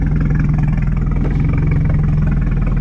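A Volvo 940 Turbo engine idles steadily at very low RPM, around 500, a deep, even rumble heard up close and loud with no voices.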